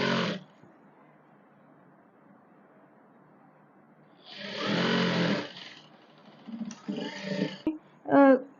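A sewing machine stitches the shoulder seam of a kaftan in two short runs, a longer burst and a choppier one. It sounds close and fairly loud over a quiet room.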